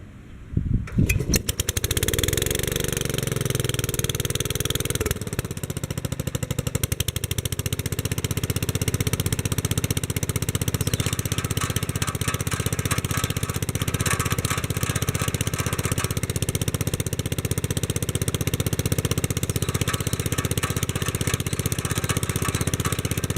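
A Wheel Horse garden tractor engine cranks and catches with a sputter, then settles into a loud, close, steady running drone that holds for about twenty seconds with no talking.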